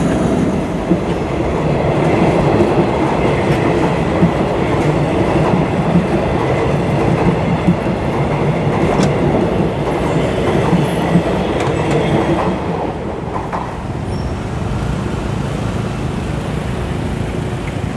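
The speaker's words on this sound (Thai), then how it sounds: "เปิดคลิปมาก็มีรถไฟมาเลย" A train rumbles past close by at a railroad crossing, steady and loud for the whole stretch, with clattering wheels and a faint metallic squeal, easing slightly near the end.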